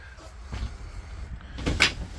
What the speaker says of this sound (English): Door, very easy to operate.